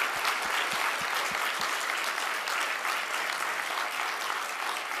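Steady audience applause filling a seminar hall, dense overlapping claps from many hands with a few louder near ones at the start, no talking.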